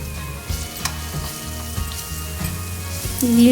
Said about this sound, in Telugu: కర్రీలో కొంచెం అల్లం వేసుకొని కలుపుకుందాం